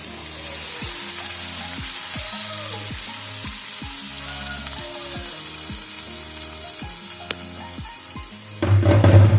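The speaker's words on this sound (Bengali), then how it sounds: "এখন আমি সেদ্ধ করে রাখা ভাতটা এর মধ্যে দিয়ে দিচ্ছি।" Boiled rice is stirred in a frying pan with a steady soft sizzle underneath. A spoon scrapes the pan in regular rhythmic strokes, and a louder clatter comes at the end.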